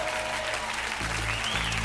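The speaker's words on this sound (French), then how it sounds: "on peut l'applaudir fort parce que c'était pas évident" A TV game show studio audience applauds a contestant on N'oubliez pas les Paroles, steady dense clapping filling the room, with a bright held tone rising briefly near the end, no talk over it.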